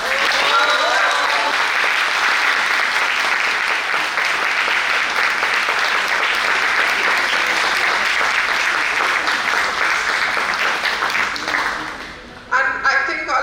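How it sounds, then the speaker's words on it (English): A large audience claps loudly and steadily at a prize distribution ceremony, the sustained applause filling almost the whole stretch before it thins out and a voice begins speaking near the end. "I think all of you are going to clap for her very loudly"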